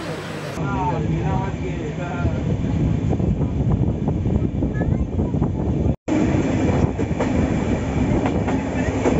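A passenger train runs along the Visakhapatnam to Jagdalpur route with a loud, continuous rumble and rattle of the carriages, heard up close from on board. Wind buffets the microphone, and a voice speaks over the noise.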